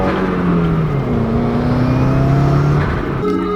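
A Subaru WRX engine idles and hums steadily close by while the car backs out, with a low droning tone that shifts slightly in pitch as it moves. No voices are heard.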